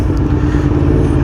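A 2022 Aprilia Tuono V4 Factory motorcycle's engine runs loud and close, a steady deep rumble with a rough throbbing edge held throughout without clear peaks.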